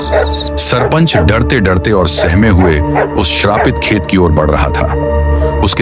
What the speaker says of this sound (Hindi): गांव के कुत्ते भी लगातार भौंक रहे